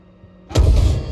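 Tank cannon firing in the tank combat video game GHPC, a single sudden loud blast following a quiet lead-in, with a booming low tail.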